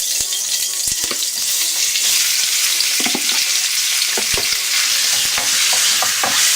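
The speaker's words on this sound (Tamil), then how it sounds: "ஒரு 5 மினிட்ஸ் நல்லா எண்ணெயிலேயே ஃப்ரை ஆகட்டும்" Chicken pieces fry in sesame oil with a loud, constant close sizzle, while a spatula stirs and scrapes the pan in quick, uneven strokes.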